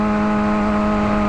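The exhaust of a 2007 Kawasaki ZX6R motorcycle drones loud and close at high revs, a steady buzzing tone held throughout with no break.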